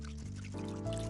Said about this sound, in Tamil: நான் உனக்கு பதிலா தண்ணி ஊத்துறேன்.